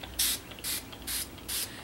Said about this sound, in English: But if I spray this one,